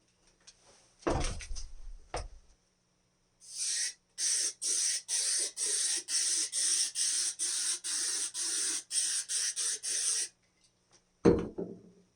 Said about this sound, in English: I'm just going to spray it with some spray adhesive